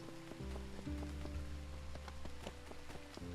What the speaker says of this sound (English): Oh, I don't want the rainy day to end.